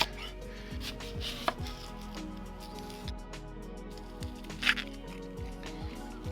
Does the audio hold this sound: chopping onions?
yes